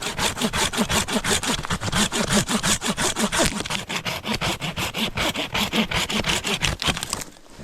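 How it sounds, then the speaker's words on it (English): A chainsaw cutting through a fallen tree across a trail, steady rasping strokes in a fast even rhythm, loud and close, with the cut ending abruptly near the end. "I really don't like running chainsaws unless there's no choice out here."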